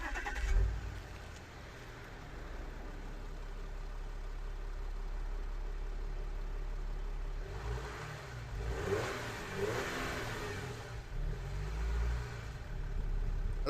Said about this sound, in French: On va démarrer la voiture.